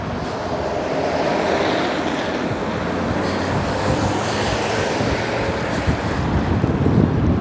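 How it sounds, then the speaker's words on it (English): Strong wind roars steadily across the microphone on a late-winter walk along Herring Cove Road in Spryfield, Halifax, a dense, continuous rushing buffet that never lets up for the whole stretch. "And that wind, oh my goodness"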